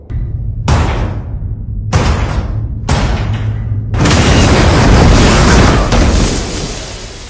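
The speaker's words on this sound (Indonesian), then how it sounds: "Setelah pintu meledak, Charlie keluar dengan keadaan penuh asap." A door blows apart in a fire: three sharp, loud booms in quick succession, then a sustained, roaring blast that slowly fades.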